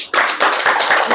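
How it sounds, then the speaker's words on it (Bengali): Schoolchildren in a classroom clap loudly together for a grammar quiz winner, a dense burst of close applause that begins abruptly and holds steady with slight rhythmic pulses for about a second. "ঈশানের জন্য জোরে একটা হাততালি হোক।"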